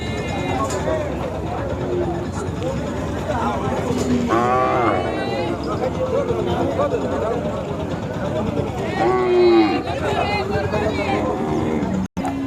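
Khillar cows moo at a busy cattle market in Sangola, several drawn-out bellows rising from a constant crowd of voices and chatter, some calls near and loud, others farther off.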